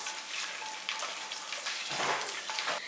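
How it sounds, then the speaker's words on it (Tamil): Pepper, bay leaves and cashews frying in hot ghee give a soft, steady sizzle and crackle, faint and close, with no talking. "இதெல்லாம் நல்லா பொரியட்டும்."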